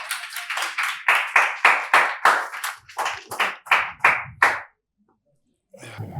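Audience on a studio talk-show set claps to welcome guests, a sparse, distinct round of about fifteen sharp hand claps in a rough rhythm, loud and close, then a pause before a faint murmur returns.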